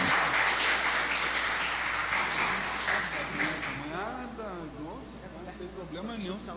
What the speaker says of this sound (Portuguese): peço uma salva de palmas aí da nossa plateia